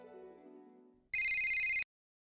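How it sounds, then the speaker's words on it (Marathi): A telephone rings with a bright electronic ringtone in one short burst of under a second. A faint tonal sound fades out just before it, and silence follows. "एक मिनिट, फोन आला."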